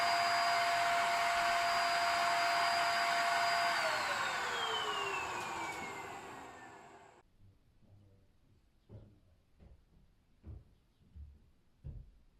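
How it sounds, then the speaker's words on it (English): A soot vacuum cleaner runs with a steady, loud motor whine, then winds down and falls silent after about seven seconds, leaving faint knocks and rustles. "I'll go and get the soot vacuum and get it cleaned."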